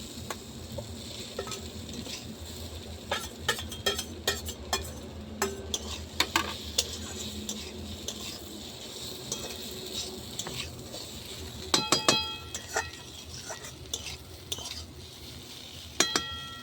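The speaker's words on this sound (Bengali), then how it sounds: "এবার আমি বেগুনটা দিয়ে দেবো" Eggplant pieces go into a pan over a clay stove with potatoes and greens, bringing a steady oily sizzle broken by sharp clinks and scrapes of a metal spatula stirring, with a cluster of rapid taps near the end.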